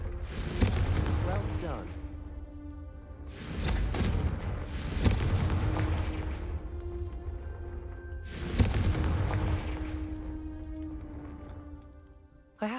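Spell explosions from the Confringo fire curse in the Hogwarts Legacy video game, three heavy booming blasts with long rumbling decays spaced a few seconds apart, a voice speaking briefly between them.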